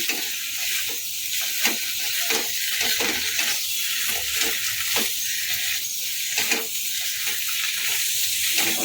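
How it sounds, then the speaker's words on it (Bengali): Potatoes for pahari dum aloo sizzle steadily in a hot pan, with a spatula scraping and stirring in irregular strokes over the constant frying hiss. "ভাজা ভাজা টাইপের করে নেবো"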